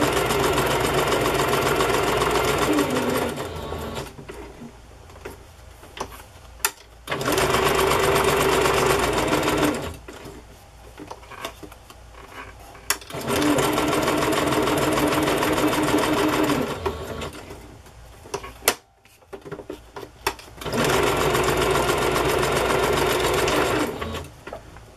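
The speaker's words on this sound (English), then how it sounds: "I'm going to sew this image to this piece of cardstock." A sewing machine stitches a printed image onto cardstock, running in several long bursts of steady mechanical whirring separated by quiet pauses with faint handling sounds.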